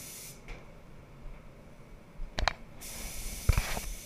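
Spray gun laying a pearl base coat of California orange paint on a Lamborghini Murcielago: a soft, steady hiss of spraying at first, then a pause broken by a couple of sharp clicks, and the hiss returns.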